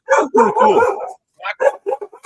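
A dog barks several times in close succession, loud and near, first in a cluster of rough barks and then a few shorter yips after a brief pause.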